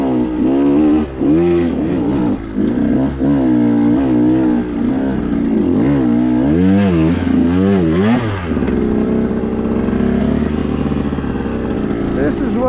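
A 125cc dirt bike out on a trail, its engine revving up and down in rapid bursts with clattering rises and drops in pitch, loud and close throughout.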